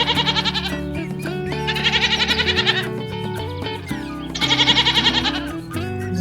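Goats bleat in two loud, trembling bursts separated by a short pause, each cry shaking rapidly, set against steady background music with tinkling tones.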